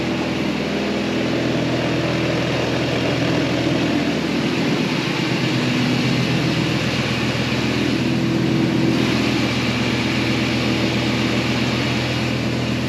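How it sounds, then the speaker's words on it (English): A car engine runs steadily at idle with a noisy belt, a loud, close, continuous hum with a whirring layer on top, with no talking. "Bit of a noisy belt, but she's running."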